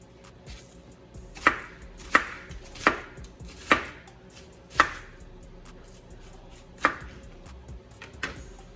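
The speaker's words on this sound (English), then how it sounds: "so I'm about to just turn these into some chopped onions" A knife chops onions on a cutting board for French onion soup, landing about seven sharp, distinct strikes at uneven intervals, close and clear, with no talking.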